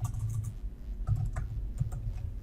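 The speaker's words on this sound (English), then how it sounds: "I'm just going to type in" Quick typing on a computer keyboard, a run of light, close key clicks in short irregular bursts, with no voices.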